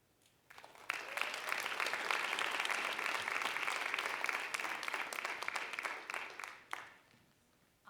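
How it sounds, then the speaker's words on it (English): Audience applause for student writers at a school writers' week reading, a dense, steady wash of clapping that swells in, holds for several seconds and fades out. "let's give one more round of applause for all of these wonderful writers"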